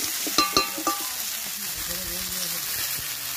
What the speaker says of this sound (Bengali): সবজিটা দিয়ে কিছুক্ষণ নেড়ে খুব ভালো করে ভেজে নেব